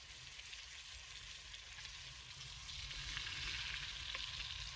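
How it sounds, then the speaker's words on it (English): Sausages and black pudding fry in plenty of fat at a camp stove, giving a steady, quiet sizzle and crackle that grows slightly louder toward the end, with no talk. "So these sausages will get nice boiling, nice frying, as will black pudding."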